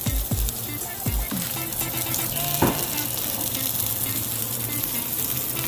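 Broccoli, cauliflower, shiitake mushrooms and sweet potato frying in a pan, with a steady close sizzle and a few thuds and clatters as pieces drop in near the start.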